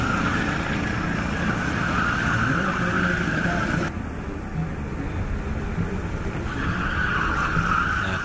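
Go-karts racing during a six-hour endurance championship, engines droning steadily at a distance with a brief dip in level midway before the whine returns, no talking.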